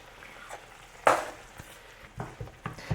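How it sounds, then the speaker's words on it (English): Butter chicken being stirred in a pan on the stove, with a soft sizzle and a few sharp clattering scrapes of the utensil against the pan at a quiet, close distance. "we're gonna let this simmer on low heat for about 15 minutes"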